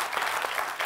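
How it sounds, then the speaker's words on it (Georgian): Audience applause on a Georgian comedy game show, a steady burst of clapping from a studio crowd filling the whole moment with no voices on top. "აპლოდისმენტები მეგობრებო"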